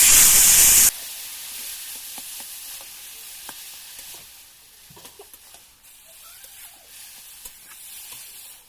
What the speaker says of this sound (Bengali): সমস্ত মশলাটা ভালো করে ভেজে নেওয়ার পরে দিয়ে দিলাম সেদ্ধ করে রাখা কচু।